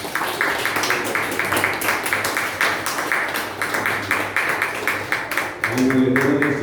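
A church congregation claps along steadily through a Sunday service, the dense rhythmic applause mixed with music and voices, swelling louder near the end.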